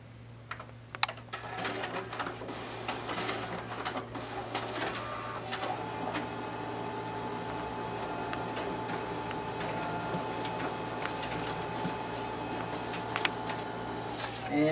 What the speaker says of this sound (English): now we'll go ahead and test out the document feeder on this machine